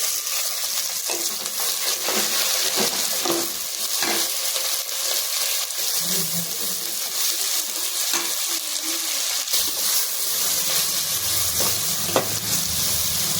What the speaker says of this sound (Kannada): ಸ್ವಲ್ಪ ಕಡಲೆ ಬೀಜ ಸ್ವಲ್ಪ ಬ್ರೌನಿಶ್ ಬಂದಮೇಲೆ ಮೆಣಸಿನಕಾಯಿ